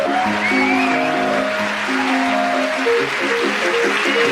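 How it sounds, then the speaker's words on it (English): Studio audience applause at the close of a radio panel game show, a sustained wash of clapping mixed under a bright musical theme tune, with no talk. "Thank you for your applause."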